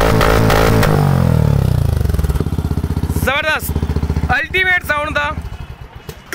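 A Benelli Imperiale 400 motorcycle exhaust revs up and then sinks back to a chugging idle, loud and close, while a voice speaks over the engine toward the end.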